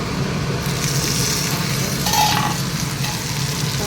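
Food shallow frying in a pan sizzles with a loud, close, steady hiss and crackle that holds without pause from start to finish.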